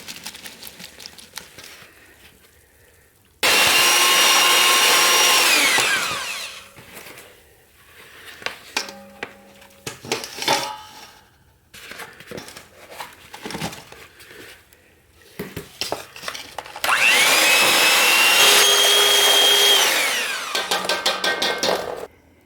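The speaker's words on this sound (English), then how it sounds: "I'm going to mix this investment up" Casting investment being mixed for silver and bronze casting, with two long, loud whirring bursts from a power mixer, separated by clattering, knocking and scraping of tools and containers in a quiet workshop.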